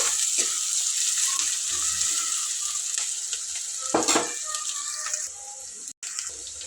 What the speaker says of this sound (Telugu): ఒక లైట్గా అట్లా పచ్చి వాసన పోయేంత వరకు వేయించుకున్నాము